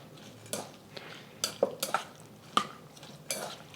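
Chicken marinade with soy sauce and cornstarch being mixed in a bowl: a handful of separate clinks and scrapes of a utensil against the dish, spaced irregularly, close but fairly quiet with near silence between strokes.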